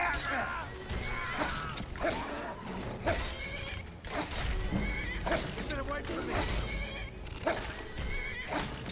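A horse in the Skyrim video game gives repeated neighs and whinnies during a fight with a spider, several sharp calls over clattering and creaking game effects.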